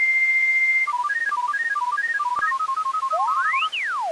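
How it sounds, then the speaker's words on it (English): AOL 3.0 sign-on begins with a steady dial tone, then fast stepped dialing tones and sweeping modem chirps, clean and close. "Oh, the familiar sounds, the dial tone."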